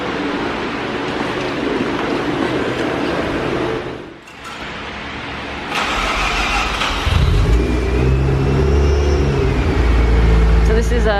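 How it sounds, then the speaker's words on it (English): A stock twin-turbo 13B rotary engine in a Mazda RX-7 FD revs steadily, dips briefly near the middle, then climbs into a louder, rougher idle-rev with a deep low rumble, close by, with voices partly over it. "I think it's a stock twin turbo 13B."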